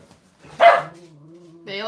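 A dog close by lets out one sharp bark, and then a person starts talking.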